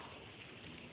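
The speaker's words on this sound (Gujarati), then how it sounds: "જુનાગઢમાં ચાલુ વરસાદ છે." Steady rain falling in Junagadh, a dense, even hiss of drops on surfaces filling the whole short moment, fairly close and unbroken, with no voices.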